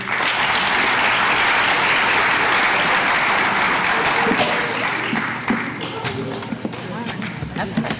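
A crowd at a high school awards night claps loudly and steadily, a dense sustained burst of applause that thins out toward the end, with voices talking underneath.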